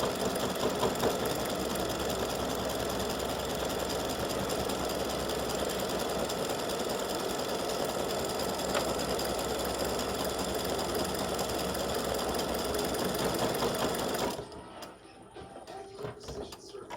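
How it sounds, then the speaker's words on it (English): An embroidery machine stitches a hat design in dark green thread, running steadily with a dense rapid needle chatter for about fourteen seconds before cutting out to quiet room noise. "I'm just going to stitch it in the dark green."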